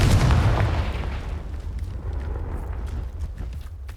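The Confringo explosive spell in Hogwarts Legacy lands as one loud, deep boom that erupts at once and then rumbles and fades over a few seconds.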